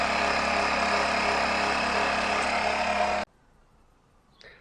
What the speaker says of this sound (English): So let's switch on the compressor.